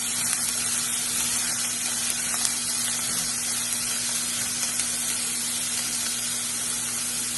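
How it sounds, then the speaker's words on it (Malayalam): Onion and chilli sautéing in a pan for homemade onion theeyal, giving a continuous close hissing sizzle with a faint steady hum underneath. "ഉള്ളി നന്നായിട്ട് ഇളക്കിയിട്ട് അന്നേരം തന്നെ നമുക്കിതിടാം. മുളകും അതിൻ്റെ അകത്തോട്ട് തന്നെ ഇടാം."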